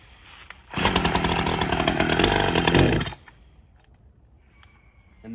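A brand-new Echo CS-590 TimberWolf chainsaw with a 24-inch bar and fresh chain makes a loud test cut into wood, a steady roaring bite of about two seconds that ends abruptly and drops to a quiet idle.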